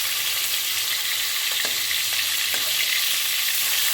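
Fish fries in a hot pan for mint pona curry, a steady close sizzle that never lets up, with a few faint scrapes as pieces are lifted and no voices.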